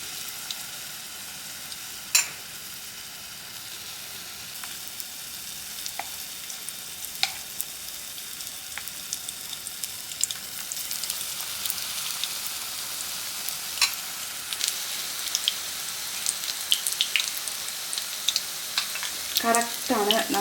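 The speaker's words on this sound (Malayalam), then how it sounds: "നമുക്ക് കുറച്ച് എണ്ണയിൽ ഫ്രൈ ആക്കി എടുക്കാം" Egg bhaji with chutney filling frying in a little hot oil, a soft steady sizzle throughout with scattered pops and crackles and occasional utensil clicks, fairly quiet and close.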